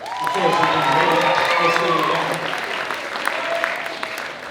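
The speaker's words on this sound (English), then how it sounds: "Let's give them a round of applause." Dense, sustained applause with cheering from a large audience at the Howell High School All Shore Jazz Festival at CBA, loud and continuous for several seconds before easing slightly toward the end.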